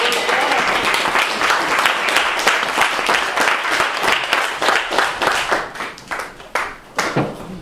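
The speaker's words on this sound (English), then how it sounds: "Let's clap our hands" A church congregation claps together, a dense, steady wash of applause that later loosens into sharper, more separate claps near the end, with faint voices underneath.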